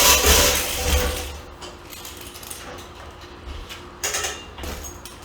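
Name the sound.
air hose reel cam catching while extending and retracting hose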